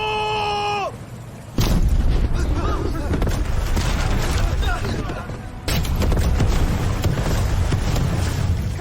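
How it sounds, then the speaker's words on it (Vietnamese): Artillery cannon fire in a war film set in Macau during 1942–1945 arrives as sudden loud booms followed by a dense, continuous roar of battle. A short tonal sound comes first, and the fire keeps rumbling on without a break. "Nã pháo."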